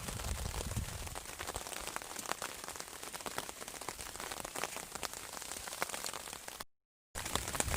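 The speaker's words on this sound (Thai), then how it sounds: "นี่ครับเสียง เสียงฝนกระทบเต็นท์" Steady rain drums on a tent under a tarp in an abandoned hut at night, a dense, continuous patter close by with no talk, cut by a brief gap near the end.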